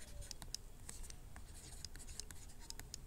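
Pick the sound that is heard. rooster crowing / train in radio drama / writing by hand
writing by hand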